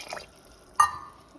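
Water poured into a pot of small seeraga samba rice for mutton biryani, a brief splash and trickle following a faint earlier drip, close and short.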